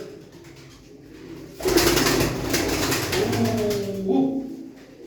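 Pet pigeons, including two blue birds, coo in low, soft, warbling tones that rise near the end, following a burst of broadband rustling noise.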